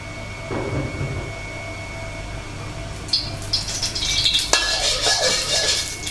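Dried shrimp stir-roasted in a pan while cooking stir-fried luffa with egg, dry rattling scrapes and tapping of a utensil against the pan starting midway, close, over a faint steady background hum.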